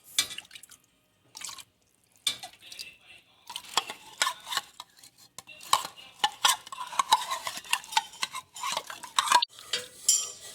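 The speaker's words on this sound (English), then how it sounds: "And then you stir it until the condensed milk melts." A spoon stirs condensed milk into green tea in a pot, with steady clinking and scraping against the sides that grows busier and louder, plus faint drips.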